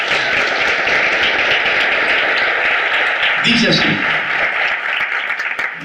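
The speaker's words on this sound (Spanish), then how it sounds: "Les damos un aplauso de bienvenida" A church congregation claps in welcome for a newly greeted woman during a Sunday service, a steady wash of applause running the full length with someone speaking over it near the end.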